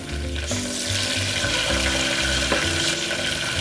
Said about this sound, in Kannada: ಈಗ ಎರಡೇ ಎರಡು ಒಣಮೆಣಸಿನ್ಕಾಯಿ ಹಾಕ್ತಿದ್ದೀನಿ